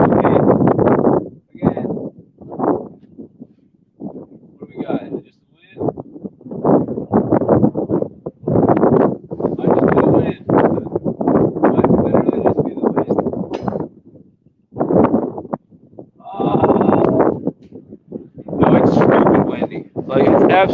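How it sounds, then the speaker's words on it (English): Gusts of strong wind batter the microphone outdoors at a trout fishing spot on a cold day, coming in loud, rumbling bursts separated by brief near-silent lulls. "it's absolutely stupid windy out here."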